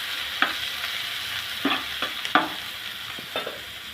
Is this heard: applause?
no